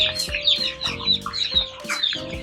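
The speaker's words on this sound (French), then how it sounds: "Et là, vous entendez quelque chose? C'est de ça qu'on va parler aujourd'hui. On parle de poussins." Five-day-old chicks at a chicken farm in Fort-Dauphin keep up a dense chorus of high, rapid peeping, with many overlapping birds close by and no talking.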